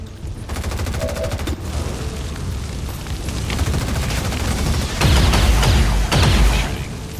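Sustained gunfire from a firefight with a stun lancer in XCOM 2, dense volleys of shots with heavier bursts near the end, loud and continuous throughout.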